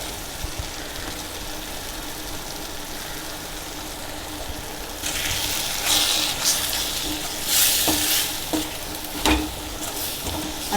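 Onion with chili powder masala is stirred in a pan for a Tamil fish curry, soft frying hiss underneath, with louder scraping stirs bunching in the second half, a few sharp spoon knocks against the pan.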